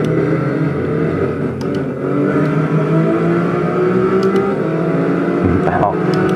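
A racing car engine drones steadily and loudly in a PC driving simulator game, holding a sustained whine with slight pitch shifts and a brief dip near the end.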